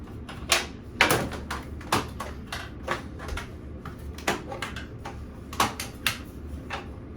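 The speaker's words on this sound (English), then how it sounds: "So let's go ahead and open this thing up." Plastic aquarium canister filter being opened over a bathtub: a string of sharp clicks and knocks as latches and lid come apart, uneven in rhythm, close and fairly loud, no talking.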